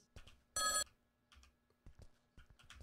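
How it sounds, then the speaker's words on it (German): A telephone rings once in a short, bright burst inside a backrooms survival video game, quiet and among soft clicks and keyboard taps. "Ich höre das Telefon."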